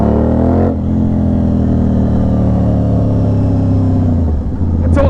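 An Aprilia RS 660 motorcycle engine revs hard and close, its tone climbing through quickshifter gear changes with quick dips where each shift cuts in, then pulls on loud and steady.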